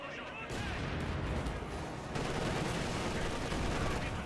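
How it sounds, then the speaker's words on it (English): An MG42 machine gun fires in the Company of Heroes 2 video game, a dense, continuous clatter of shots mixed with other battle noise that swells louder after the first half-second. "MG42 firing away."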